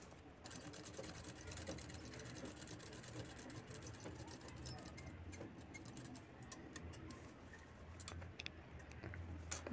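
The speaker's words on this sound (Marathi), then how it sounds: "इथे ही बॅग आपली शिवून पूर्ण होत आलेली आहे." A domestic sewing machine runs steadily, stitching a five-pocket cloth bag, with a fast continuous mechanical whir and ticking. It is close and fairly quiet, with a small clatter at the very end.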